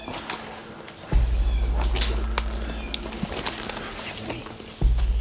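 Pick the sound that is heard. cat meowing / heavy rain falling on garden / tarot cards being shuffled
cat meowing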